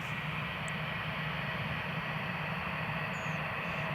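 A TAP Air Portugal airliner comes in to land on runway 25 at Newcastle International Airport, a steady, distant broadband engine roar that holds evenly throughout with no talk.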